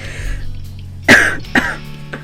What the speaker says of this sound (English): I haven't even got Shemai out yet and I'm already coughing.